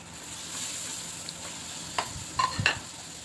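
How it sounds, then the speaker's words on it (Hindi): Masala frying in a pan with tomatoes and ground spices, including chilli, garam masala, fenugreek, nigella and ground sesame, giving a steady close sizzle with a few quick utensil scrapes and clicks near the end. "मसाला भून लूँ टमाटर के साथ"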